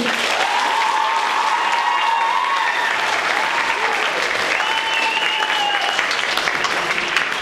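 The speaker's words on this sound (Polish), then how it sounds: "Jeszcze raz brawa" Loud, sustained applause from an audience at a youth municipal council session fills the hall, steady throughout with overlapping voices and a few whistle-like tones over the clapping.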